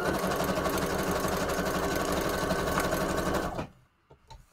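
Sewing machine stitching a line through paper during a Christmas paper craft, running as a steady close mechanical whir that stops abruptly near the end, leaving faint handling clicks.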